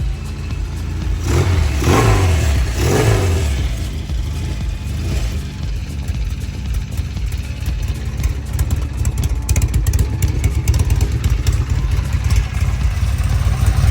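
A 1974 Norton Commando 850 motorcycle engine starts with a couple of throttle blips, then settles into a steady, loud, close rumbling idle through a small pea shooter exhaust that runs throughout.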